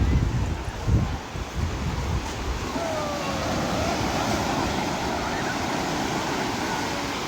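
Sea waves wash onto Nagoa beach in Diu as a steady broadband surf roar with some wind buffeting the microphone, loudest and most uneven in the first seconds.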